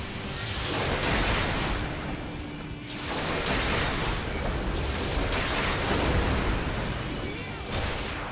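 Rumbling explosions from combat in the online game Final Fantasy XIV, a dense continuous wash of loud blasts and booms with swelling bursts throughout; no talking.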